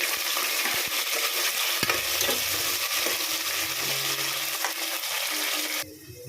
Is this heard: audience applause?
no